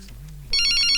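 A telephone starts ringing abruptly with a bright electronic trill after a half-second of quiet room tone, loud and close in an indoor scene.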